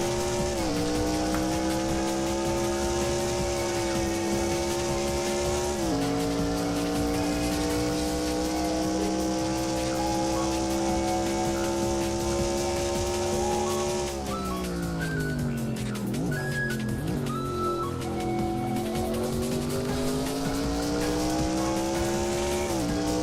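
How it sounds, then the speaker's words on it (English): Loud sim-racing car engine heard from the cockpit during a lap in Sunoco Elite Series pre-season testing, with a steady high drone that drops through several gear shifts and dips sharply under braking mid-lap before climbing again. "We're going to go on board with your fastest man on the track for a lap."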